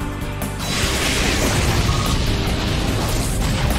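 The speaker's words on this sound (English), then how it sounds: "Annihilated by explosion!" An Explosion move detonates in the Pokémon Battle Revolution video game, a loud sustained blast with crackling, rumbling debris that fills the whole stretch at steady volume.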